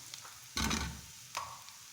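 Mushrooms and onions sautéing in a pan until golden give a faint, brief burst of sizzling and stirring partway through, then a softer scrape near the end over quiet background.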